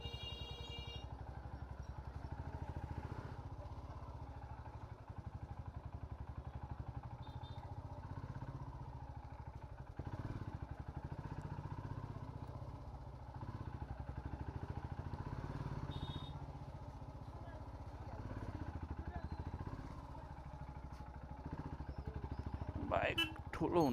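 Motorcycle moving along a narrow road, a quiet, continuous engine drone heard from on the bike, with people talking over it and a brief clatter near the end.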